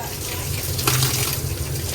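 Water spraying from a hose while washing mud off after an ATV ride at an adventure park in Jamaica, a loud steady hiss with a short burst of stronger spray midway.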